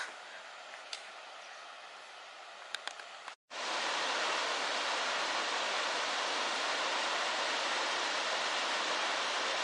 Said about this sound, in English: This is the beautiful Galboda Falls.